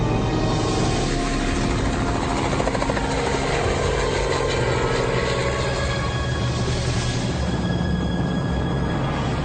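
A loud, steady helicopter roar fills the whole stretch, with a thumping rotor beat and a constant engine whine, close by.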